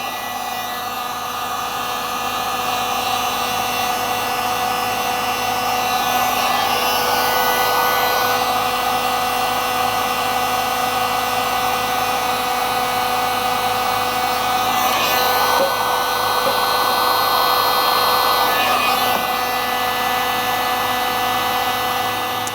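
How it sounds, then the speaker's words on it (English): A heat gun shrinks butt connectors on tail light wiring of a 2007-2013 Mini Cooper, giving a loud, steady blowing whir that runs on its own throughout with only slight swells in intensity. "Now we're going to use a heat gun and heat shrink the butt connectors."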